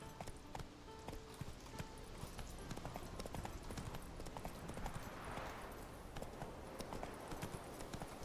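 Roach the horse's hooves canter in The Witcher 3, a steady rhythmic clip-clop that runs throughout over a continuous ambient game background.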